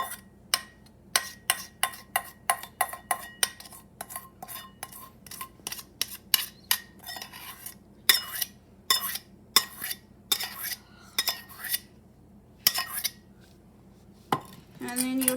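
A metal spoon spreads topping over meatloaf in a pan, giving a long run of quick, close clinks and taps against the pan with short scraping strokes between them.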